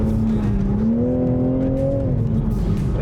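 A Toyota race car engine held under steady throttle at an evaluation day, a smooth sustained drone with a slight rise in pitch midway, close and continuous.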